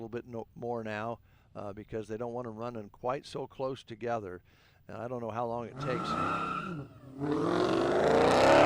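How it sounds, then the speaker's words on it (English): A maroon 2018 Dodge Challenger Hellcat races past on an open road race course near Halsey, Nebraska, its engine roar swelling loud and rising in the last few seconds after a stretch of talking. "They are in a maroon 2018 Dodge Challenger Hellcat."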